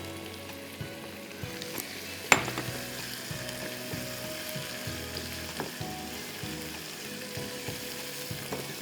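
Tomatoes frying in a pan for Mumbai-style tawa bheja, a steady close sizzle with occasional clinks and scrapes of a utensil, including one sharp knock early on; no talking.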